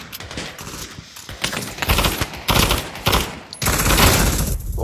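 Rapid gunfire in the Pavlov VR shooter, with dense bursts of loud automatic shots crackling close by in uneven volleys across the whole stretch.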